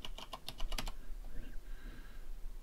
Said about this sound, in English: Go into your search bar on the bottom and type in